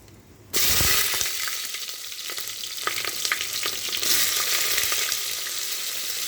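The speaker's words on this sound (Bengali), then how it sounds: "এই সবজিটাকে আমি এর ভিতরে ভাজা ভাজা করে নেব।" Vegetables for khichdi hit hot oil with dried red chillies: pointed gourd, radish, yardlong beans, eggplant, potato and green chillies. A sudden loud sizzle bursts in and keeps crackling steadily, with stirring scrapes and no talk.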